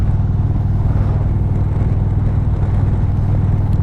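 A 2021 Indian Roadmaster motorcycle rumbles while being ridden, a loud, steady, deep engine drone that runs continuously from close by.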